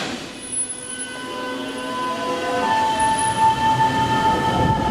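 Articulated Paris metro line 7bis train running, a steady rumble of wheels on rails rising in loudness, with sustained whining and squealing tones overhead.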